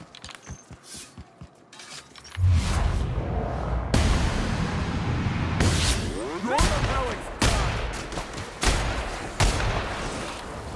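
Gunfire in the sci-fi shooter The Outer Worlds: after a few quiet thumps, a dense run of loud shots and booming blasts fills the scene, with sharp cracks standing out on top. Someone talks over the firefight.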